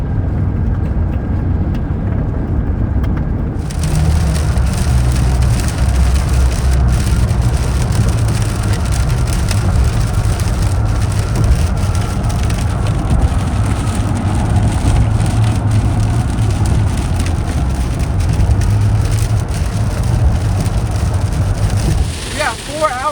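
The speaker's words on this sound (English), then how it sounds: "We got 4 hours left and it's still raining." Heavy rain pours down at a highway rest stop, a dense, loud, continuous roar that starts abruptly and holds steady throughout, with no speech.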